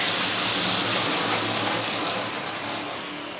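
Late model stock cars of a CARS Tour field roar off together at the green-flag race start at Florence Motor Speedway, a dense, steady wall of engine noise from a distance that eases slightly toward the end.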